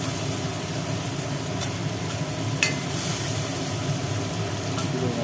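Garlic frying in a pan during home cooking, a steady, fairly loud sizzle with a continuous crackling hiss and no talk.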